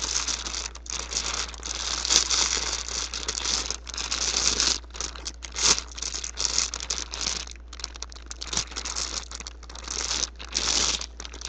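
Crinkly plastic packaging is rustled and crumpled up close in repeated bursts, with sharp crackles and tearing textures continuing throughout.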